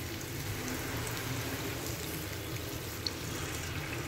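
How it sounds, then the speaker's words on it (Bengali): Water goes into a hot pan of spiced chicken cooked in oil, a steady, dense sizzling hiss that holds evenly throughout, close and moderately loud with one small click near the end. "তো এবার আমি এর মধ্যে খানিকটা জল অ্যাড করে দেবো।"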